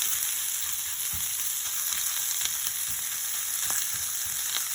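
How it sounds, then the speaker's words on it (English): Chorizo out of its casings frying in oil in a cast iron skillet, a steady bright sizzle with small scattered pops and crackles, close and continuous with no voices. "here I have my cast iron skillet, a little bit of oil again. We're going to throw our chorizo in there"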